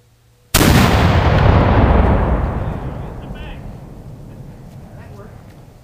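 A cannon loaded with PVC pipe ammunition and wadding fires once outdoors, a single huge boom with a long rolling echo fading over several seconds.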